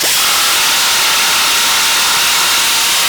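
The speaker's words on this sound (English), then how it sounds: "Like these big ass grinders." A large body-shop grinder cleaning the wheel hub of a 2013 Ford Explorer during rear wheel bearing removal, giving a loud, continuous high-pitched grinding whine close up with no speech.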